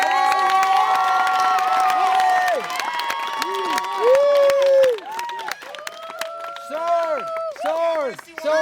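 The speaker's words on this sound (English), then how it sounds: "if you guys will put your hands together real loud, real hard" A crowd cheers and claps at an outdoor forest magic show, loud excited shouts and whoops, some childlike, riding over scattered applause that thins after the first few seconds.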